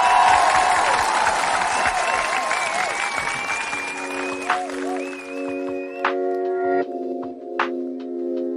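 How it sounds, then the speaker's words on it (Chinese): An audience at the 2021 Henan Spring Festival gala applauds in a broad wash of clapping that fades as music with a melodic line comes in and takes over. "掌声欢迎我们的小老乡啊"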